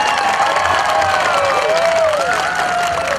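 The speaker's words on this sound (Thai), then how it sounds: "ขอความกรุณาท่านได้ปรบมือดัง ๆ ให้กับนางสาวยิ่งรักชินวัตรสักครั้งครับ" A packed Thai campaign rally at Nong Chok Pittayanusorn school roars with loud, continuous applause and cheering for Yingluck Shinawatra, with shrill whistle-like tones sliding over the thick crowd noise throughout.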